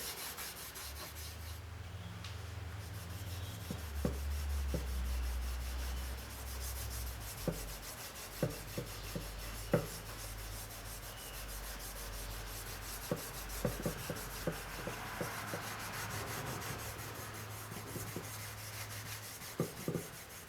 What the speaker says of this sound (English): Right, so that's the first coat of the wax polish applied.